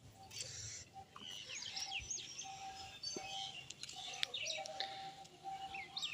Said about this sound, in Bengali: কত সুন্দর ওই দেখো পাখিটা